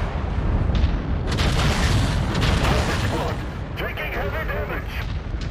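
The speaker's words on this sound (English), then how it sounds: "What the heck did explode on the right?" A booming explosion in the mech combat game Mechwarrior 5: Mercenaries, a heavy rumbling blast with sustained low roar and crackling debris, weapon fire layered over it while a voice talks.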